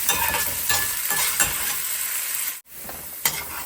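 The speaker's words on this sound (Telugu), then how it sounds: "జింజర్ అయితే ఇట్లా కట్ చేసి పెట్టుకున్నాను దీనికి సేపు అయితే ఫ్రై చేసుకోవాలి" Chopped ginger fries in hot oil for a ginger chutney, giving a steady close sizzle broken by a few stirring scrapes and a brief quiet gap near the end.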